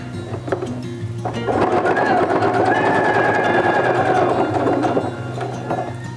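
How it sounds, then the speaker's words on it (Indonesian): A sewing machine stitches seams on a simple handmade tote bag, a steady close whirring run of a few seconds that starts and stops, with a low hum underneath. "Sekarang kita jahit ya."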